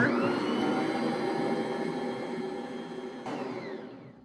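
A stand mixer kneads bread dough for homemade crescent rolls, giving a steady motor whir with a faint rhythmic thump, then the drone briefly jumps near the end before winding down.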